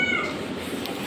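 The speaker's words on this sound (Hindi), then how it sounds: "देख सकते हैं बिल्ली अभी हमारे हॉस्टल की" A cat meowing inside a hostel, a single drawn-out call heard up close and alone.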